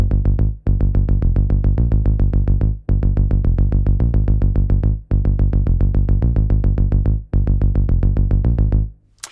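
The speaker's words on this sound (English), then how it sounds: "this little punchy electro part, which is a retro synth sound" A punchy retro synth electro bass line plays alone in Logic Pro, with rapid repeated staccato notes in a driving rhythm and short gaps between phrases. The bass is loud and upfront, and no one speaks.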